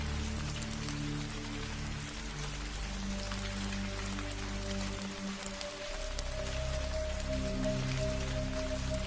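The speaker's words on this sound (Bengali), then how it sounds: "আকাশ মেঘাচ্ছন্ন হয়ে আছে, গুড়ি গুড়ি বৃষ্টিও পড়ছে।" Light drizzle in a cartoon patters softly and steadily on surfaces, over a sustained low musical drone that swells and shifts partway through.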